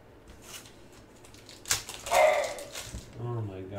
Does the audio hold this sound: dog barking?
yes